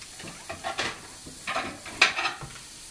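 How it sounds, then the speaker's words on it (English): Mushrooms sautéing in a hot pan, a soft sizzle broken by several bursts of stirring and scraping that come and go in an uneven rhythm, close by with no voices. "First, we want to get our mushrooms sauteed"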